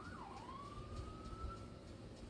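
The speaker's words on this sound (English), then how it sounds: "That was like sirens in the background" An emergency vehicle siren wails faintly in the distance, a single rising and falling tone that then holds steady, heard softly beneath a quiet background hum.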